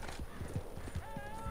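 Horse hooves clip-clop at a steady trot in Red Dead Redemption 2, close and rhythmic, with a brief whinny-like tone partway through over soft game ambience.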